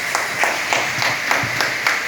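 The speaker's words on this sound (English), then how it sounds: "So please give Tariq a round of applause." Light applause from a small audience at a zoo Halloween event, a steady patter of claps lasting a couple of seconds, moderately near and without talk.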